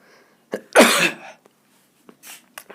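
One harsh, explosive cough, close and loud, with a softer catch before it and a few faint breaths afterward.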